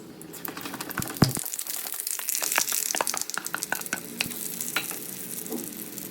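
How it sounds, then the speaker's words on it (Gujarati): Batter poured into hot oil spiced with mustard and sesame seeds for semolina handvo, sizzling and crackling close up with sharp pops and scraping stirs throughout. "2 ચમચી જેટલું તેલ ઉમેરી તેમાં રાઈ અને તલ નાખી આપણે બેટર પાછું ઉમેરી દેવાનું છે."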